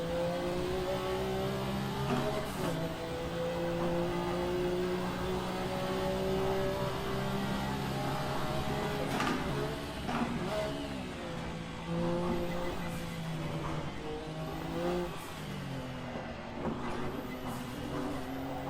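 A race car engine in a driving video game revs hard through the gears and then drops back, with a continuous whining drone and rising and falling pitch, steady and moderately loud.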